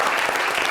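A brief burst of audience applause on a TV talk show, dense, continuous clapping lasting under a second.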